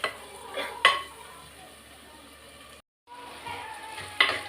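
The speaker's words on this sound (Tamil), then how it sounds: "இப்போ இது நல்லா வதங்குது." Food sizzles steadily in a pan while being sautéed for fish kulambu, with a couple of sharp utensil clinks against the metal and a brief gap of silence.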